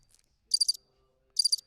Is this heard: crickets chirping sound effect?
yes